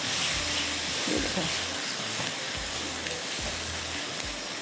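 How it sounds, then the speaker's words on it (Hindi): Ground tomatoes and onion frying in a little oil give a steady hiss and sizzle throughout, fairly close, with faint low background rumble and no speech. "अभी थोड़ा सा मैंने इसको भूनना है"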